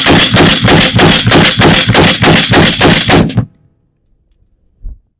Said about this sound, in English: this stuff shoots. So it worked perfect.